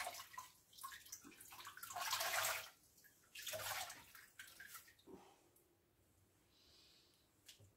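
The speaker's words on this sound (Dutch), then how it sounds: "Even nieuw water erin." Fresh water pours and splashes into a container for rinsing a paintbrush, in loud gurgling bursts that fade into softer trickles and occasional drips, with no talking.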